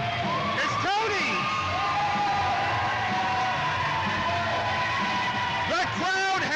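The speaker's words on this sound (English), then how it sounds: "The crowd has come unglued." A wrestling crowd roars and whoops wildly at a 2014 CCW Slamapalooza event featuring Tony Atlas, a dense, steady wall of cheering with sharper yells near the start and end while a commentator talks over it.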